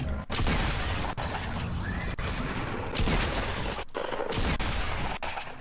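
Pump shotgun blasts in the video game Fortnite boom loud and close in a few heavy shots, spaced about a second apart over dense, continuous game noise, with no talking.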